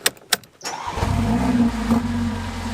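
A Mercedes A45 AMG starts up after a couple of sharp clicks, catching with a loud burst and settling into a steady, close rumbling idle with a standard exhaust.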